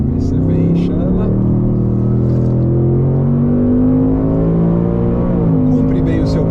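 Ford Mustang Dark Horse 2025 muscle car accelerating hard through a tight section, its engine note climbing steadily and loud in the cabin, with a brief dip and renewed rise near the end.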